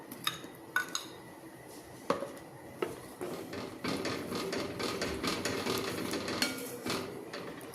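A spoon stirs masala paste into Punjabi-style rajma gravy in a cooking pot, with scattered metallic clinks and knocks against the pot, then a denser run of quieter scraping and clattering.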